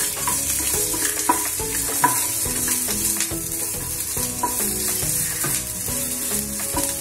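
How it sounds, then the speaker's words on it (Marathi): Cardamom, coriander seeds, cumin, cinnamon and bay leaf dry-roasting in a pan for Kolhapuri misal, with a soft continuous rustle and scraping stir over background music. "1 चमचा जिरे, हे सगळं आपण आता भाजून घेणार आहोत"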